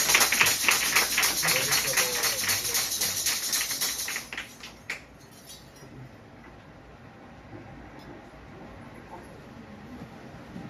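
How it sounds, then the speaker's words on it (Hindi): A church congregation claps in praise of the Lord, a dense, loud run of hand claps for about four seconds that then stops, leaving quieter room noise. "ताली बजा के प्रभु"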